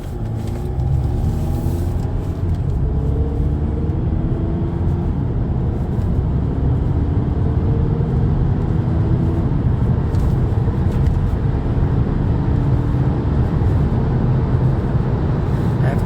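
A 2014 Volkswagen Passat SE TDI diesel drives and accelerates through its gears, heard from inside as a continuous loud low engine drone with rising and falling tones as it shifts, steady throughout with no talk.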